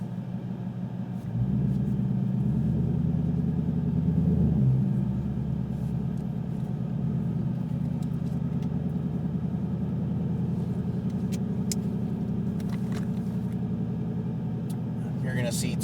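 Ford Mustang Shelby GT500 creeping slowly ahead past cones and pillars, its engine a steady low rumble close by, rising slightly at first then holding even, with a person talking over it throughout.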